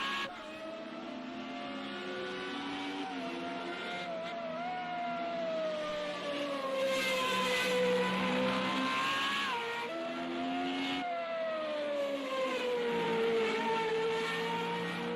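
FR35 formula race cars scream around a circuit in Austria, high-revving engines rising and falling through gear changes as they pass, loud and continuous in the distance without talk.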